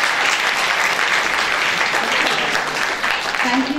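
An audience at a literary festival breaks into a sustained round of applause, dense and steady throughout, with a voice briefly audible near the end.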